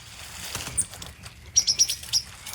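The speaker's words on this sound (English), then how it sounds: "Woke up a white-throated sparrow." A white-throated sparrow calls at night, a few short high chirps grouped together near the end, fairly close and distinct over quiet ambient background.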